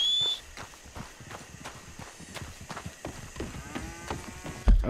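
Horse hooves clip-clop in Red Dead Redemption 2, a series of distinct hoof strikes at a walking-to-trotting pace, moderately close over a faint game ambience.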